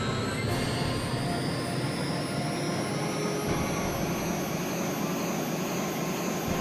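A Harrier jet engine roars in jet mode in the PlayStation game Eagle One: Harrier Attack, a steady loud whooshing turbine drone with a high whine, continuous for several seconds.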